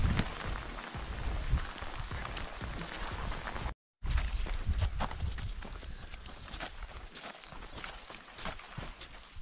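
Steady rain patters and hisses across a surface with scattered heavier drops, interrupted by a brief dropout, then continuing evenly.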